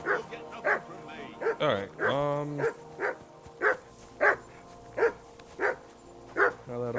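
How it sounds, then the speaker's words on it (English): A dog barks repeatedly in Kingdom Come: Deliverance II, a steady run of sharp, evenly spaced woofs with a couple of whining yelps early on, while someone talks briefly over the start. "that barking's driving me nuts. Can you get your dog to shut its beak?"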